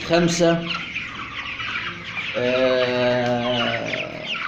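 Chickens in a crowded poultry room cluck and squawk close by in bursts, several birds overlapping, with faint voices in the background.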